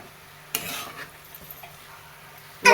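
Kardai (safflower) greens being gently sautéed in a pan in a village-style kitchen: a few spatula stirs and scrapes over a faint sizzle, ending in a louder burst of sizzling.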